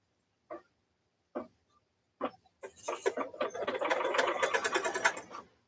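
An embroidery machine stitches brown felt placemat material held in a hoop, starting after a few light taps and settling into a loud, rapid, steady rattling stitch rhythm.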